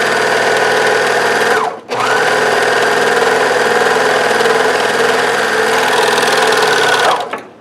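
A sewing machine stitches fabric for a locker caddy, running steadily and loudly with a continuous whir, pausing briefly near the two-second mark before resuming for several more seconds, with no talking.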